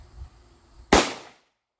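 A Girsan 1911C .45 ACP pistol fires a single sharp, loud shot of Federal 230 grain jacketed hollow point ammunition, and the report decays quickly into silence.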